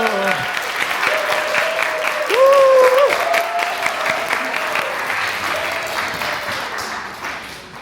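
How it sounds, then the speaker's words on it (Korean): A church congregation breaks into applause during a Sunday worship service, a steady wash of clapping that swells briefly and then tapers off as it fades. "박수!"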